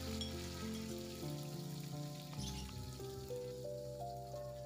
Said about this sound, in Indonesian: Dan selanjutnya kita masukkan ikan terinya, kita goreng hingga sampai kering